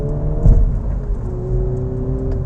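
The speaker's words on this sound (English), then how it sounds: "Put your foot down, and that 2-litre engine is pretty brisk" A 2019 MINI Cooper S JCW with a 2-litre engine accelerating briskly, a loud, close, steady engine drone rising slightly in pitch over a couple of seconds, with a brief thump early on and no talking.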